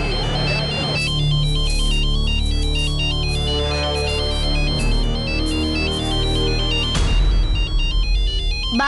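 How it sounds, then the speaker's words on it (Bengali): A telephone ringtone plays a loud, continuous electronic melody close by for several seconds, alone with no talking. "বাবা বাবা ফোন।"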